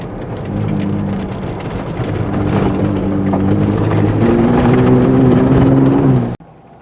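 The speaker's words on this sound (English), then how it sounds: "One good thing about turbocharged engines, they produce a lot of bottom end torque for climbing like this." Turbocharged engine of a 2022 Ford Bronco Raptor drones low and steady while climbing a hill road, its pitch stepping up partway under a constant rumble of tires and wind before cutting off abruptly.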